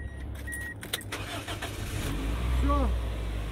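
A car engine, already well warmed up, cranks and catches near the end, settling into a low, steady rumble after a few faint clicks and rustles.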